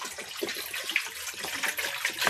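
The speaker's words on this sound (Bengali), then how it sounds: "তাই জন্য আগে জল নিয়ে নিচ্ছি।" Water runs from a tap into a large basin with a steady, close splashing rush that keeps going throughout without pauses.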